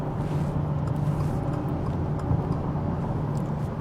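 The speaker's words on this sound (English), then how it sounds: "Gotta enjoy the turbo noises though." Steady, loud engine drone of a stock Subaru WRX TR accelerating while driving, a continuous low hum with faint turbo whoosh under the road and cabin noise, no talking.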